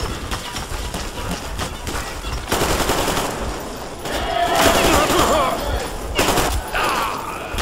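Enemy gunfire in the video game Metro Exodus crackles in repeated bursts of shots mixed with game sounds, fairly loud throughout.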